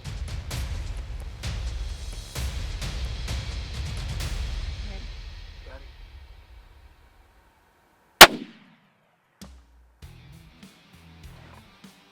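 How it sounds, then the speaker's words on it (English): A single sharp rifle report from a McWhorter rifle fired at a whitetail deer in North Texas rings out after a stretch of rustling and low voices, followed by a brief echo and faint later knocks. "we're just waiting on an opportunity to let this McWhorter rifle do its job"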